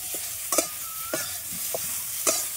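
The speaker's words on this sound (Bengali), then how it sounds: "দিয়ে খুব ভালোভাবে নাড়িয়ে নেব" A spoon stirs raw mango pickle mixed with Kashmiri chili powder, giving four or five distinct scraping knocks against the pot at uneven intervals over a steady soft hiss, with no voices.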